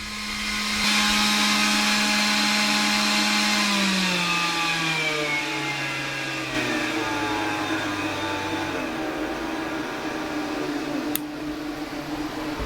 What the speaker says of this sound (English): that's a vent fan for my battery cabinet